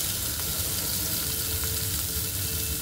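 Onion dropped into hot oil in a pan while making bharta, giving a steady, close, dense sizzle and crackle that holds evenly throughout with no talking.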